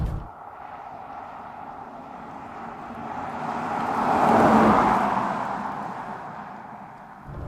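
A V12 Mercedes CL600 of the C140 generation drives past on the road, its engine and tyre noise swelling to a broad peak midway before easing off, with no voices over it.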